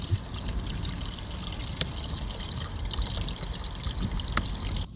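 AdBlue poured through a funnel into a Range Rover Evoque 2.0, a steady close gurgling stream that runs continuously and evenly without pause.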